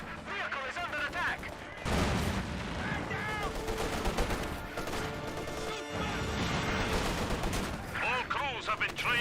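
Gunfire from the Company of Heroes 2 strategy game: dense bursts of rifle and machine-gun fire with crashing impacts and heavy explosions, loud and nearly continuous, with a commentator's voice faintly mixed in.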